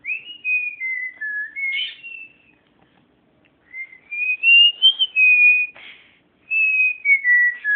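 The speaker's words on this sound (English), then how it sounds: "do something other than whistling" A pet bird whistles loud, close melodic phrases of sliding notes in three bursts, with short silent gaps between them.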